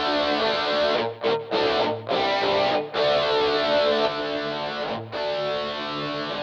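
Electric guitar played through an MXR Rockman X100 pedal with its chorus effect on, a sustained, distorted, shimmering tone with strummed chords and a few brief pauses, loud and steady with no talk.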